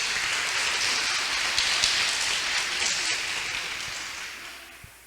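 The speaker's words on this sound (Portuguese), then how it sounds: "Vamos aplaudir a poderosa palavra de Deus." A church congregation applauds at a worship conference, a broad, rain-like wash of clapping that holds steady and then slowly fades.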